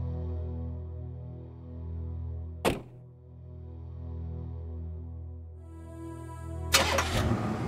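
A car engine cranks and catches in an animated film scene, with a sharp mechanical thunk partway through and a rough burst of engine noise near the end over a steady low hum.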